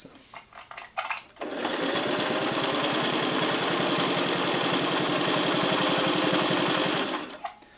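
Singer 401A sewing machine stitching steadily at speed, a continuous loud mechanical whirr with rapid needle rhythm, starting after a second of faint handling clicks and stopping near the end.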